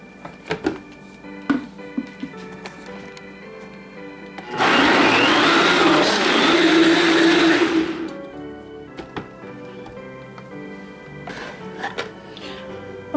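A blender whirs loudly for about three and a half seconds, steady and close, blending a corn pudding casserole batter of butter and milk, with quiet kitchen clatter before and after.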